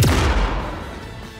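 A single loud, close gunshot in an anime battle scene, a heavy boom whose rumbling tail fades over about a second, with no voices over it.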